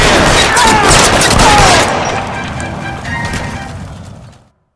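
A volley of gunshots fires at a fleeing car's tires during a police chase in the video game L.A. Noire, loud and rapid at first, then an echoing tail that fades out.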